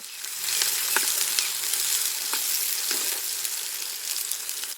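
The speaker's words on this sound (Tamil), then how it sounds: "பொடி பொடியா நறுக்கி வச்சிருக்க வெங்காயத்தை இப்ப சேர்த்துக்கலாம்." Finely chopped onions hit hot oil in a pan with curry leaves for a dried-fish curry, giving a steady close sizzle and crackle with a few brief stirring clicks and no talk.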